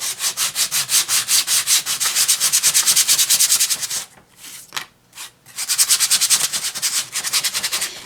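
Painted woodcuts are sanded by hand with steady rhythmic back-and-forth strokes, close and loud, pausing briefly midway for a few scattered rubs before the regular strokes resume.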